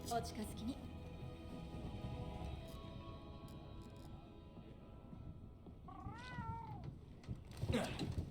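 A cat companion in Monster Hunter World gives one rising and falling meow over steady game music and background sound effects.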